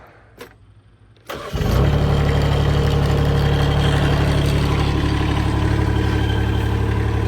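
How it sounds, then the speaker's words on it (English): An old Kubota diesel engine on a Chinese skid steer turns over after a few faint clicks, catches quickly and settles into a loud, steady, rumbling idle nearby. "So let's see if she starts. The old Kubota should start right up."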